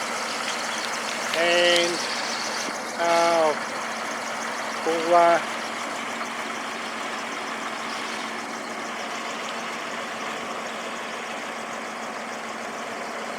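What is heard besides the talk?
vehicle engine idling while warming up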